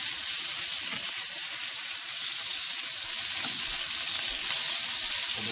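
Lamb loin chops sear in a hot pan, a dense, continuous sizzle and hiss at close range that holds steady throughout, with faint spattering and no speech.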